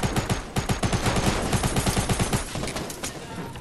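Rapid automatic gunfire in the Fortnite video game, a fast even stream of loud shots lasting about two and a half seconds before trailing off into quieter background noise.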